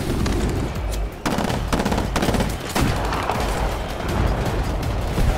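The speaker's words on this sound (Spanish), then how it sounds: "Hay disparos por ahí sueltos." Sustained gunfire in the video game Titanfall, dense rapid bursts of shots rattling continuously, loud and close, with only brief gaps, no talking.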